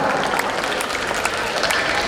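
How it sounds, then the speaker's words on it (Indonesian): Steady, continuous applause from an audience at an Islamic dhikr gathering, filling the whole stretch at an even level with no voices standing out. "tepuk tangan yang panjang tuh untuk kita semua"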